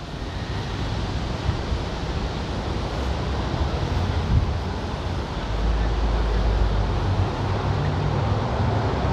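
Steady, loud wind blows across Sunny Isles Beach in Miami beside the Trump Tower condo, a continuous broadband rush that swells a little stronger in the second half, with surf-like roar and no talk.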